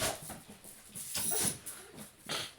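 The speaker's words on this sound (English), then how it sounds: "now my dog's gonna go outside and she's all excited" A pet dog whimpers and huffs in short excited bursts, close by, eager to be let outside, with breathy pauses between the soft whines and no talking.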